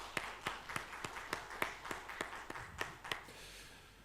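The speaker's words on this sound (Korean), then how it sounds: "우리 박수를 한번 다시 더 축복하겠습니다." A church congregation at a Sunday worship service applauds the choir with fairly faint, evenly spaced claps in a steady unison rhythm that softens toward the end.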